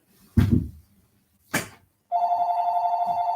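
A telephone rings with a steady electronic tone after two short, sharp knocks or thuds, loud and close in a quiet room with no talking.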